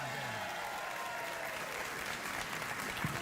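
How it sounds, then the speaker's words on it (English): A late-night talk show studio audience gives a continuous round of applause, a steady wash of clapping held at an even level with faint voices beneath it. "All right, a round of applause."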